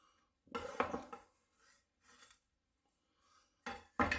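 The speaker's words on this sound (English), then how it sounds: "I do love using the China knife because it can scoop your whole board" A Chinese cleaver scoops and scrapes across a kitchen cutting board while champurrado is being made, giving several short, crisp scraping strokes with quiet gaps between them.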